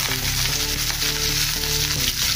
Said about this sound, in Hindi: अभी इसमें हम प्याज डालेंगे बारीक कटा हुआ